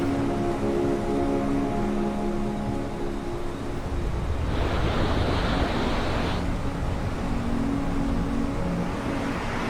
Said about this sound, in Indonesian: Di dekat air terjun terdapat pantai hitam Islandia yang paling terkenal di dunia.